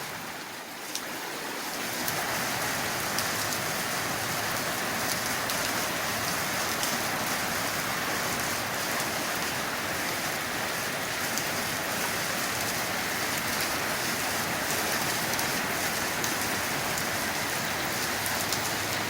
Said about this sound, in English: we've come out the front just to show you a bit more of the rain.